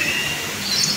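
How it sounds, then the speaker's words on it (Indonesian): A cockatoo calls at Taman Safari Bogor, a safari park in Indonesia, giving a high, thin, sustained cry that rises near the end over a steady outdoor background, with no talking. "Burung kakak tua."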